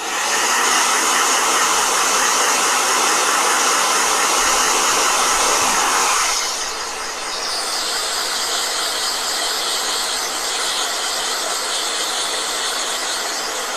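A blow dryer runs loudly and steadily as a continuous breathy whoosh, its pitch and loudness dropping slightly partway through as the setting changes, with no voices.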